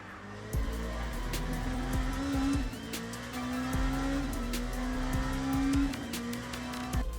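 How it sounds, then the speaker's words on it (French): Race car in the Le Mans Ultimate sim losing control under acceleration at the Mulsanne corner, a loud engine rising and dropping through gear shifts with screeching tire squeal and skidding, close and continuous. "Au virage de Mulsanne, le 3e perd le contrôle à l'accélération"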